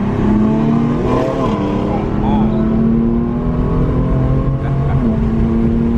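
A BMW M4 and a Dodge Challenger Scatpack 392 drag racing: loud, sustained engine roar with rising revs and gear shifts, heard from close by with people talking over it.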